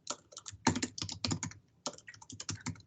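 Quick, uneven bursts of keystrokes clatter on a computer keyboard, close up, with brief pauses between runs of typing and no talking.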